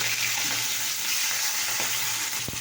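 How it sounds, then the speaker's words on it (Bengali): Shrimp with shells and heads removed frying in hot oil, a steady close sizzle and crackle throughout with a couple of sharp pops near the end, no talk. "এখন তো দেখো একটু হালকা ভেজে নিয়েছি।"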